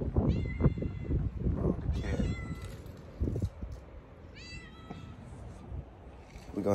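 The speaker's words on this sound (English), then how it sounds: "We gonna have to help the cat." A stuck stray cat meows repeatedly, several drawn-out plaintive cries spaced a second or two apart, heard over low rumbling background noise.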